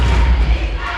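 Gym crowd at a high school basketball section quarterfinal, DGF fans loudly chanting a defense chant, a dense, roaring burst of massed voices with low thumps beneath.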